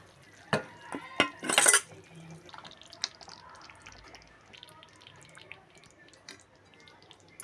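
Thick mushroom gravy bubbles in a pot with scattered soft pops and drips, and a burst of utensil clatter against the pot early on.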